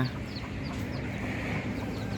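A hen with her chicks clucks softly alongside a young rooster, a steady busy mix of short close-range calls and peeps with no talking.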